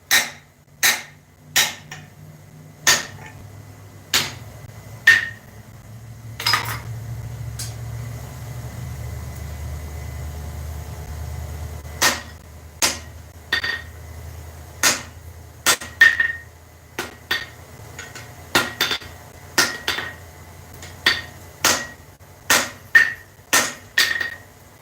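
Repeated hammer blows drive a drift through hot steel being forged into a ball peen hammer, sharp ringing strikes arriving in irregular bursts over a low rumbling background, with a quieter stretch midway.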